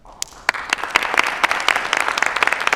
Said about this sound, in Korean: 김수지 선생의 발표를 박수로 청하겠습니다